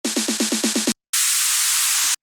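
A noise splash effect for a music arrangement follows a quick run of about eight rhythmic percussive hits, then bursts in as a broad, loud wash of white noise that holds for about a second before stopping.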